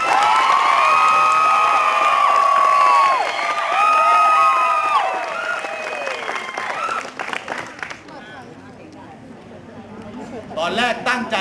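A crowd cheers, shrieks and claps for a romantic lead couple on stage, loud and lively at first with whoops, then thinning into scattered claps and murmurs, with a brief burst of cheering near the end.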